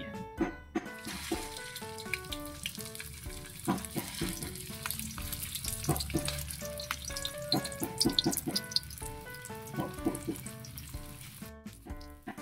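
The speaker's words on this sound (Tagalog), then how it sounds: "Pipirito tayo." Lumpia shanghai frying in hot oil, with a continuous crackling sizzle and scattered pops and clatters, close and steady, with no speech.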